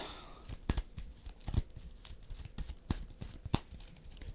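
Playing cards for the Dune Imperium: Uprising board game being shuffled and handled on a table, a close run of riffling snaps and papery rustles in quick uneven bursts.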